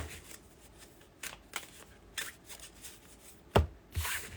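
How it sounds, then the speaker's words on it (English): A deck of tarot cards being shuffled, with repeated riffling and tapping bursts, close and fairly quiet, ending in a couple of sharper card snaps. "I'm gonna make sure they're shuffled up good."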